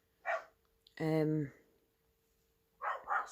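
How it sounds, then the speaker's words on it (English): A small dog outside gives one sharp bark, with a person speaking briefly before and after it. "he's barking in the background"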